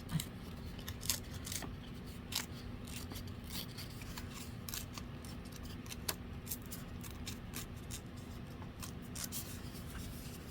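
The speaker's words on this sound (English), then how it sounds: "I'm gonna tear this a little bit" Paper being torn by hand for a vintage envelope craft, a series of short crisp rips and rustles scattered across a quiet room with a low steady hum underneath, close and soft.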